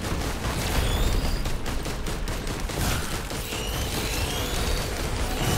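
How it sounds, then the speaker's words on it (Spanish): Chain explosions in Risk of Rain 2 crackle as a dense, continuous barrage of rapid blasts and pops, loud and unbroken for several seconds, with no talk. "las explosiones en cadena, ¿has visto eso?"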